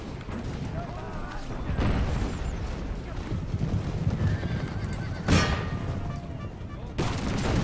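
Horses neigh and gallop with clip-clopping hooves during a battle in the Imperial Splendour mod game. Whinnies rise over steady hoof rhythm, with gunfire and a speaking voice in the mix.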